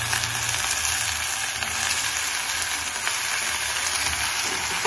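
Onions and green chillies fry in a pan with a loud, even, continuous sizzle, close and unbroken for the whole stretch, with no voices.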